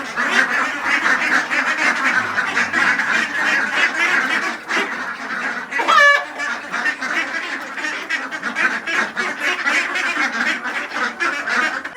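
A flock of ducks and ducklings quacks and honks loudly and continuously up close, a busy overlapping chorus of calls with one brief sharper squawk partway through and no talking.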